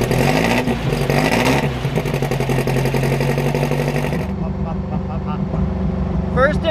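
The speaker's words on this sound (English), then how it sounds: "First impressions in this car, it's super loud. So with that exhaust back there, it's really loud." A Beck Porsche 550 Spyder replica drives along with its engine and exhaust droning loud and close, the note shifting as the car goes through the gears, then easing to a lower steady rumble.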